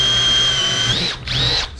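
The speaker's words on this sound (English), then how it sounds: "this little guy will definitely drill through this wood like it's nothing" A Milwaukee M12 compact cordless drill bores through wood, its high motor whine steady and loud up close, dipping briefly under load before spinning back up.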